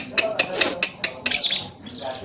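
A lovebird trained to sing canary-like phrases gives a run of sharp, bright chirps and trills up close, with quick repeated notes and a short warbling burst near the end.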